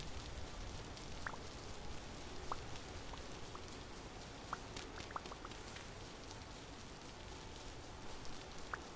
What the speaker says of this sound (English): It is that like very small, fine drizzle in the air kind of rain.